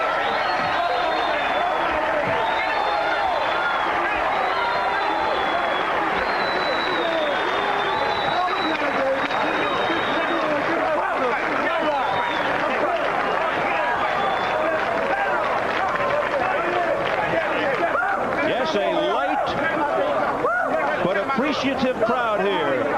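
A large boxing crowd at the Fort Lauderdale Convention Center roars and chatters continuously, a loud dense wash of cheering and shouting under a ringside commentator's voice.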